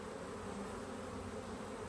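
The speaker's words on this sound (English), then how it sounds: "they're dripping with bees" A dense, steady hum of honey bees swarming over a packed middle hive frame, continuous and close, with no talking.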